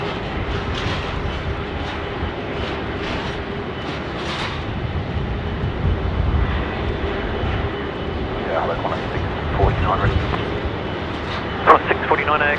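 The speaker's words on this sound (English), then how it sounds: "So this is A330. It's coming down Alpha." An Airbus A330 taxis at Sydney Airport with a steady, broad engine roar that holds for the whole stretch from a moderate distance. A few brief higher tones and knocks sound near the end.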